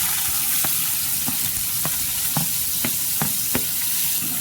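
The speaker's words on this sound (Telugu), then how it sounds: "ఆయిల్ వేడైంది, ఆనియన్స్ వేసుకుందాం." Onions frying in hot oil in a kadai, a dense continuous sizzle with a spatula clinking against the pan every half second or so, close and even, no talking.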